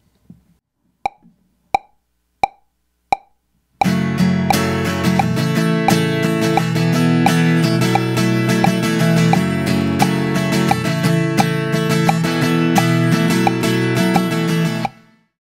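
Four clicking count-in taps, then a guitar strummed briskly in a strumming pattern at full tempo, a steady driving rhythm, loud and close, continuing to the end.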